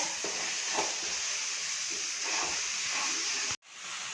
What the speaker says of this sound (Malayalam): അപ്പം നമുക്ക് നല്ലപോലെ ഇളക്കി കൊടുക്കാം അല്ലെങ്കിൽ ഇത് കരിഞ്ഞു പോകുന്ന